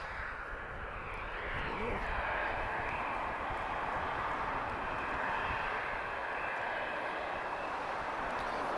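A Ryanair Boeing 737-800 jet at Lisbon Airport gives off a steady, fairly distant engine rumble and whine that continues throughout at low level.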